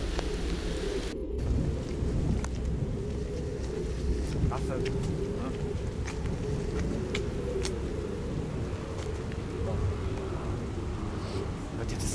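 Heavy rain pours steadily in a dense, roaring hiss that continues throughout, with a low rumble underneath.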